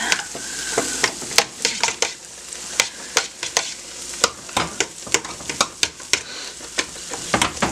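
A spoon stirs melting butter in a pot while potatoes are being made, giving a continuous soft sizzle broken by frequent sharp scraping clacks against the pot, close and steady with no talking.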